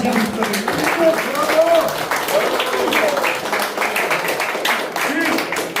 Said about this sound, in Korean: 격려의 말씀을 해주신 우리 이인재 전 지사님께 뜨거운 박수로 다시 한번 부탁드립니다.